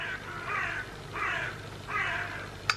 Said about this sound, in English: fucking seagulls, man.